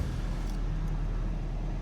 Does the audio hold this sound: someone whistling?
no